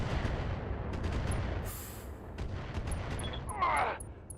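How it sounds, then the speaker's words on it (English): Automated base turrets keep firing on a Marauder unit in a strategy game, a steady run of booming gunfire and impacts over a rumbling battle din, with a brief metallic burst near the end. "those turrets are going to continue to fire on my Marauder"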